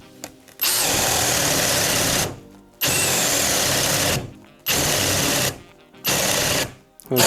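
A cordless drill-driver spins at its second speed in four steady, loud bursts of whirring motor whine, each lasting one to two seconds and separated by short silent pauses, with no voices.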